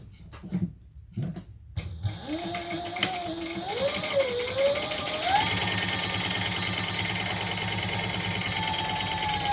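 After a few handling taps, a sewing machine runs a long continuous top stitch along a bag panel, its motor whirring steadily and rising slightly in speed, loud and close with no talking.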